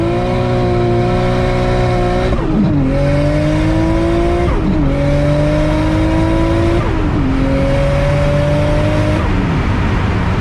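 Loud E85-fuelled 2JZ-engined car pulling hard in second gear, engine note rising steadily with sharp drops at each of three quick upshifts, close and sustained with no talk.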